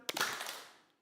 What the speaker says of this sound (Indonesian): Ngobat, tepuk tangan sekali.